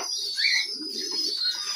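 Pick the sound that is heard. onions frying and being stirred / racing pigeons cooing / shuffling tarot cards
racing pigeons cooing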